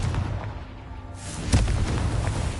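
A Confringo fire spell in Hogwarts Legacy bursts with a single sharp, loud explosive boom partway through, over a low rumbling game background with no talking.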